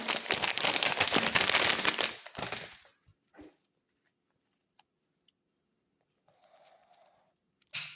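Loud crinkling and tearing of plastic packaging around a Labubu toy for about two seconds, then a few short rustles and faint clicks in near silence.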